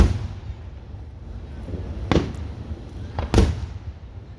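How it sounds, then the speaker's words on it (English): Fourth of July fireworks going off outdoors: two sharp cracking bangs about a second apart over a low rumbling background, moderately distant. "you watching the fireworks?"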